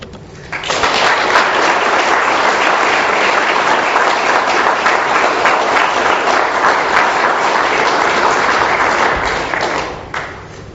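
Sustained audience applause for a speaker at an Alcoholics Anonymous meeting in Doylestown, a full steady clapping crowd that swells in, holds for about nine seconds at even loudness, then tapers off, with no talking over it.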